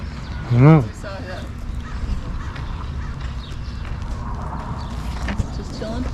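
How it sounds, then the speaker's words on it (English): A parrot at a dairy farm petting zoo in San Elizario, Texas, lets out one loud, close squawk near the start. Quieter farmyard sounds and faint voices follow. "Oh, there's a parrot. Maybe that's what's making noise."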